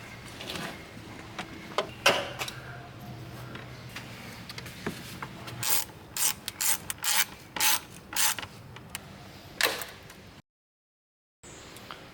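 Ratchet wrench tightening fasteners on a BMW F82 charge cooler, bursts of close, crisp rapid clicking in repeated short strokes, with a brief silent gap near the end.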